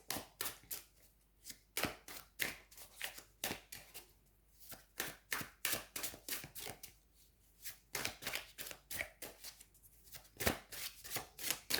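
Tarot cards are shuffled by hand and drawn, a close run of quick papery riffles and slaps in uneven bursts with brief pauses between them.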